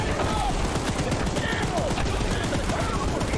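Gun fire aimed at Charles in the Choo Choo Charles game: a continuous, loud stream of rapid shots filling the whole stretch without a pause, with excited voices shouting underneath.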